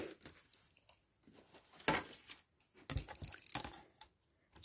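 Paper from an ephemera kit is roughly cut for a tab booklet, giving quiet, irregular snips and crinkly tearing bursts at close range, a few louder crisp cuts standing out, with no talk.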